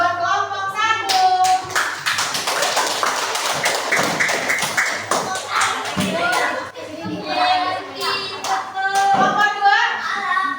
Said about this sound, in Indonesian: kita kasih aplaus buat kelompok 1